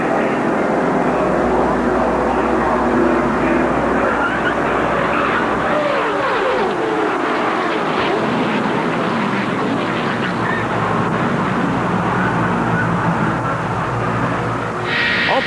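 A stock car racing video game runs through a multi-car crash, with dense engine roar, scraping and crunching impacts layered together in a loud, continuous wash of race noise.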